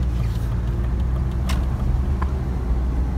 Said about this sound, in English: Sick idling sound.